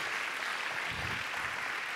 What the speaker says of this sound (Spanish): un aplauso a Micaela